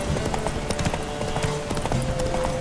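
Hooves of a horse galloping in The Witcher 3 pound in a quick, continuous rhythm, close and loud over a steady background of game ambience.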